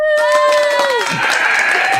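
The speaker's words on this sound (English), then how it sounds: "The crowd goes wild." A whooping voice cries out and then gives way to a loud wash of crowd cheering and applause, a burst of excitement greeting a guest arriving on a talk show.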